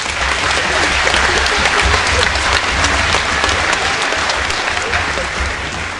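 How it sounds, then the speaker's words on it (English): A school spring concert audience claps loudly and continuously, a dense, even wash of applause from many hands filling the hall throughout. "let's give a round of applause"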